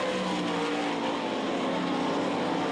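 Sprint race cars circle the dirt track at the Knoxville Nationals, a dense, continuous engine roar filling the air as the leading car takes the high groove through turns 3 and 4 and down the front straightaway.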